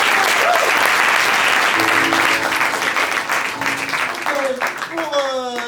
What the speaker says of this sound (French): Roman, on va applaudir bien fort.